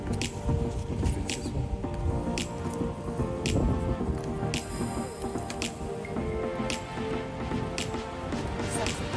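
Steady morning rain in Washington D.C. patters and splashes on surfaces, with scattered sharper drips standing out against a continuous wet hiss.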